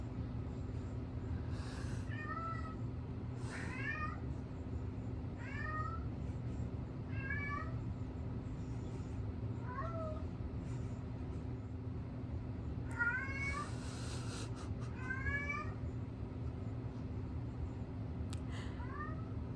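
A house cat meows repeatedly, a run of short rising and falling calls of varying pitch, some in quick pairs, fairly close over a steady low hum with no one talking.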